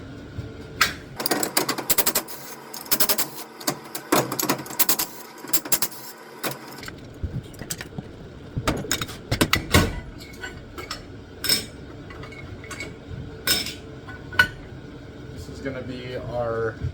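10 mm wrenches ratchet and clink against bolts while a jet pump is torn down on a 650-swapped Kawasaki JS550 jet ski, close metallic clicks and taps in irregular bursts.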